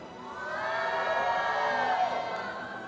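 A large arena crowd at an esports event for the game Honor of Kings cheers and whoops, swelling in a sustained roar that rises and holds loudly before easing slightly.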